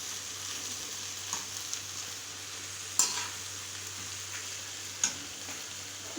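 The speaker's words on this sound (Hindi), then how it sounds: "इसको अच्छी तरह मिक्स कर लेंगे।" Spaghetti tossed with chaat masala in a sizzling pan: a steady fry-sizzle with soft stirring scrapes and two sharper clinks of a utensil against the pan, close up.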